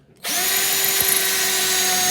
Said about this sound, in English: I'm going to do a small drill bit first, using my Bauer, and then we'll switch over to a larger drill bit